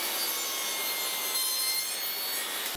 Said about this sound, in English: What we probably want to do first is get this cut off to a reasonable length.